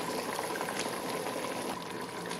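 Dark beer sauce simmering and reducing in a pan with pork ribs, a steady close bubbling and sizzling that continues evenly throughout with no voices.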